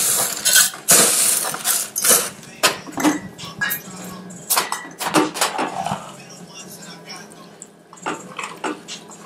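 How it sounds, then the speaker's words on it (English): Crushed ice for a cocktail rattling and scraping in bursts, sharp crunchy clinks clustered near and loud, with a voice talking between them. "Let's put it on crushed ice."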